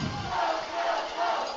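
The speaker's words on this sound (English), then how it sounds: "Crowd are starting to get into it" Crowd at a women's rugby national championship cheering their team on, a broad steady roar with rising swells, heard alone without commentary.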